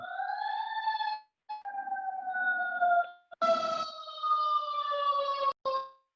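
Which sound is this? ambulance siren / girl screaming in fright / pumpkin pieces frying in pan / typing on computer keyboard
ambulance siren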